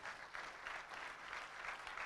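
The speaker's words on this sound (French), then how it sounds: "Donc on peut aussi l'applaudir encore bien fort." Faint, distant audience applause at an agricultural conference, a soft continuous patter of many hands that stays steady and low in level throughout.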